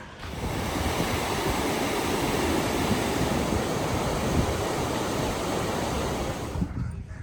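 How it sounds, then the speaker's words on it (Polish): A mountain waterfall roars as a steady, loud, broadband rush of falling water, unbroken for several seconds before easing slightly at the end, with no voices. "Tutaj jakiś wodospad."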